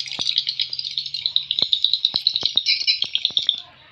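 A rapid, steady series of sharp, high-pitched swiftlet chirps with clicking rattles from an akau-type swiftlet call recording, close and loud, stopping abruptly near the end.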